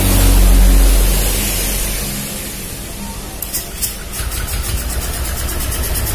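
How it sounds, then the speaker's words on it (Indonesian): A fuel-injected motorcycle with its air filter removed starts up with a loud low rumble, then settles into a steady idle with some clicking and rattling on top. "Bentar, motor saya hidupin."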